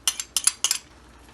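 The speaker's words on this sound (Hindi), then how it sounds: "इसको जल्दी जल्दी मिक्स करना है ताकि दाने ना पड़े।" A spoon quickly stirs yogurt into sugar syrup in a pot while making zarda, giving a few bursts of bright metallic clinks that stop and leave near silence.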